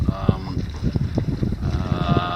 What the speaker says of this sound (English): The wind picked up, and the forecast today is for strong winds